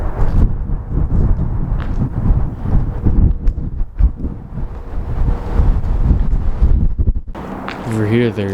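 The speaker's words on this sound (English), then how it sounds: "The wind is unbelievable over here." Strong wind buffets the microphone in loud, continuous rumbling gusts inside an abandoned factory, the Fisher Body Plant in Michigan, with a brief shift to a higher whistling tone near the end.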